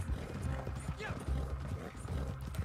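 Horse hooves clip-clop in a steady trot in Red Dead Redemption 2 Online, a continuous rhythmic patter under game ambience, with a brief whinny-like cry midway.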